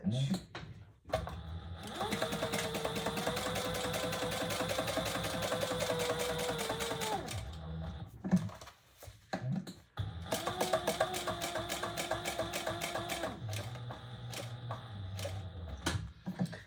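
Sewing machine top stitching and back stitching a bag, two long runs of rapid rhythmic needle clatter separated by a short pause with small handling noises, close and steady.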